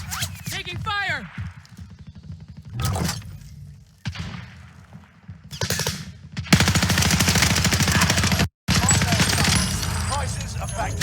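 Bursts of automatic gunfire in Call of Duty Warzone, rapid repeated shots in several separate volleys with brief gaps and a long sustained stretch near the end, mixed with game voice lines and other effects.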